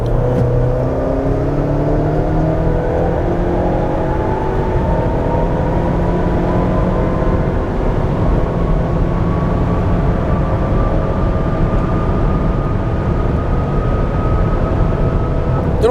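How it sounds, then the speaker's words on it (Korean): A 2023 Ford Explorer 2.3 Limited SUV accelerates at full throttle, its engine drone rising steadily in pitch over a constant loud rush of road and wind noise, with no speech. "현재 세팅으로 가속 페달만 전개해서 가속 성능 테스트를 진행해 보도록 하겠습니다"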